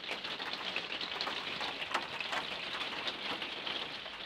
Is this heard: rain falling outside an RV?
yes